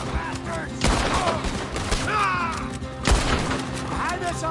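A chaotic gunfight in Red Dead Redemption 2, with repeated gunshots and heavy thuds mixed into dense game sound and background music. Characters shout and talk over the shooting.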